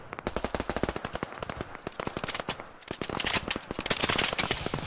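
Rapid automatic gunfire in the video game Operation Harsh Doorstep, dense bursts of sharp shots in quick succession, some near and loud, others more distant, continuing almost without pause.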